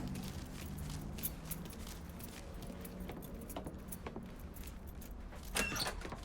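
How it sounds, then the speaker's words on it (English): Truck keys jangle in the Mafia III video game, a faint metallic rattle and a few brief clinks over a low background rumble, with one louder handling sound near the end. "Keys in the other room. Grab them so we can get the hell out of here."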